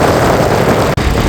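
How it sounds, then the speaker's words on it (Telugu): A scooter engine with a large hole in its silencer gives off a loud, rough, continuous roar, close by, with a momentary dropout near the end. "ఈ స్కూటీకి అయితే పెద్ద బొక్క ఉన్నది సైలెన్సర్కి, అందుకని ఇలా సౌండ్ వస్తుంది."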